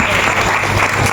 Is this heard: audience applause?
yes